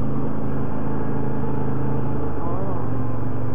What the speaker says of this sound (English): couple four-wheelers.